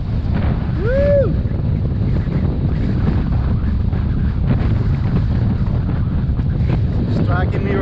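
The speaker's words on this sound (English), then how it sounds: "An extreme wind, guys." Extreme hurricane-force wind buffets the microphone outdoors, a loud continuous roar and rumble with no letup, while a voice briefly whoops early on.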